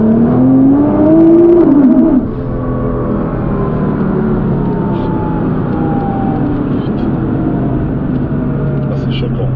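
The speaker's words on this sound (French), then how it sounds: "La voiture, elle prend des tours comme ça." A 1800-horsepower Nissan GT-R engine revs up sharply, its rising tone sweeping upward in the first two seconds before settling into a steady, loud mechanical drone with rushing road and wind noise.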